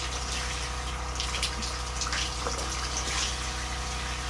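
Water running steadily from a Joolca Hot Tap portable instant water heater in an off-grid setup, a continuous gushing hiss at moderate level with no talking.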